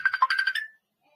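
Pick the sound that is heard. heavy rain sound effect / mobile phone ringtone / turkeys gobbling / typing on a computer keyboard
mobile phone ringtone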